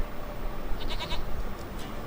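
A goat bleats a few times in The Witcher 3 video game, short wavering calls fairly close over a low background hum.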